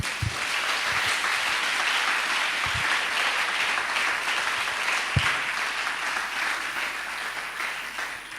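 Congregation applauding to acclaim the Lord at a church gathering, a dense, steady roar of many hands clapping throughout, with a few louder low thumps standing out.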